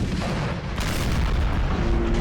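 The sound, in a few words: artillery fire in Napoleon: Total War video game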